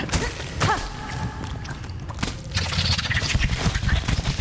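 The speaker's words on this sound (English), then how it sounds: "it gallops like a horse" A creature galloping like a horse in Hollow Knight Silksong, rapid clip-clop thuds against game music and creaky mechanical effects, moderately loud and continuous, building toward the end.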